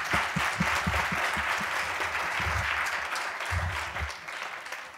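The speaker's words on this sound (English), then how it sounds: "a round of applause for the panel," Conference audience applauds a panel on women and media, a broad, sustained clapping that stays strong and slowly eases toward the end, with some low murmuring voices mixed in at times.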